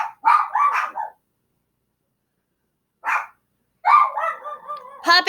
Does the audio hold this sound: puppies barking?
yes